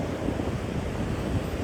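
Ocean surf washing up on a beach, heard as a steady, full roar of breaking waves mixed with gusty wind buffeting the microphone, with no voices.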